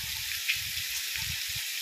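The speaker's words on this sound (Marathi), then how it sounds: "इथे असं इथं साईडला धबधबा" A waterfall near the Karla caves outside Lonavala gives off a steady, even rush of water that fills the whole clip, with low rumbling surges underneath and no talk.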